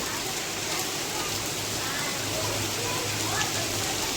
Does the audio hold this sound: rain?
yes